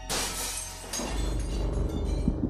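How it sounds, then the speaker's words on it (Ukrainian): Window glass shatters loudly in a house room at night, a sharp crash followed by a dense spray of breaking shards and tinkling debris lasting a couple of seconds. "Хтось розбив вікно в одній з кімнат мого будинку."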